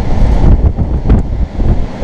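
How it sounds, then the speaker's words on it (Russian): Strong storm wind buffets a balcony on the 27th floor during window installation, a loud, gusting roar that rises and falls with rumbling microphone buffeting and no speech. "А то с таким ветром"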